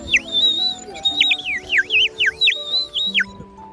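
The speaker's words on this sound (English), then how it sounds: "We finally found our bird whistles." Bird whistles blown at a Renaissance fair give a string of bright, warbling chirps and trills in quick succession, loud and close, with some faint background voices underneath.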